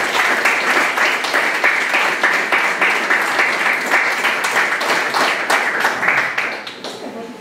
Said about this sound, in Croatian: Molim za velike aplauze.